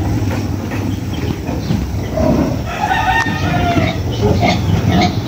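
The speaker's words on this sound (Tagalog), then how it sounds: "May mga manok din dito mga kalaki." Chickens cluck and call intermittently around a developing rural property, with faint crowing-like calls from fowl over a steady outdoor background; no talking.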